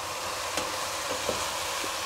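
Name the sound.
onion sweating in a pot for vegetable soup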